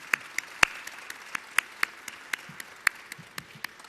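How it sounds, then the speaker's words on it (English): Scattered hand claps ring out at an official news briefing at a New York airport terminal, sparse, sharp, evenly spaced claps from a small audience rather than a full ovation. "Let's give him a round of applause, Mr. Rick Cotton."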